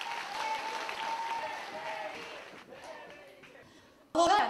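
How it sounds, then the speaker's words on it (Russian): Audience at a student comedy contest claps in a sustained, fairly loud wash that slowly fades, then a sudden voice breaks in at the end. "Ваши аплодисменты!"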